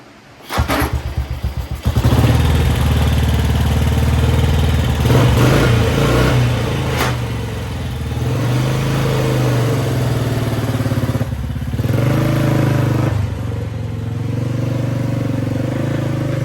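A 1955 Velocette motorcycle engine running as the bike is ridden off, loud and close, its low throb rising and falling with throttle changes for the whole stretch, no talking.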